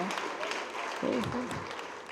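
A congregation at a Digambar Jain religious gathering in Bhilai claps together, a moderate patter of many hands while a voice speaks over it.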